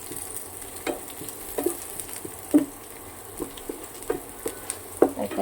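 Two green chillies fry in hot oil in a pan, with a steady sizzle and light patter under occasional stirring scrapes and pops, close by and with no talking.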